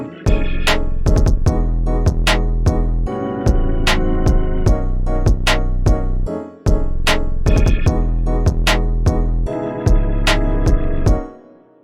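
A funk-style drum beat programmed in FL Studio, with a punchy kick, a booming 808 and a crisp snare, plays a loud, steady groove of sharp repeated hits, alone and without talk.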